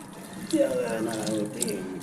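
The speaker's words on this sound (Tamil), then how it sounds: "இப்போ புளி தண்ணி கரைச்சி ஊற்றிக்கிடும்." Tamarind water is poured into a pan for Nagercoil-style fish curry, a soft trickling, splashing stream heard close and steady for the whole moment, with faint voice in the background.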